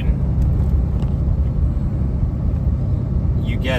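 A heavy truck engine lugging around 1100 RPM drones low and steady with a rumbling tone and G56 gearbox rollover noise throughout, loud and close, as from inside the moving vehicle.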